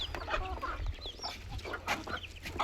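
Chickens in a poultry cage cluck repeatedly in a busy, overlapping chorus, close and moderately loud, with no talking.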